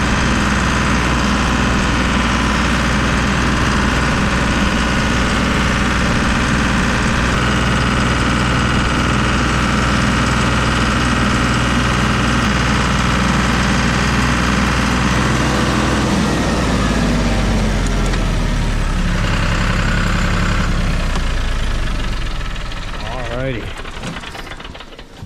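A loud, close tractor engine chugs steadily at idle for a long stretch in snow, then winds down and fades near the end.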